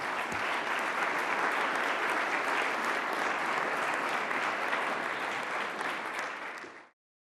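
An audience at a new venture business competition claps for about seven seconds, a dense, even wash of applause that cuts off abruptly at the end.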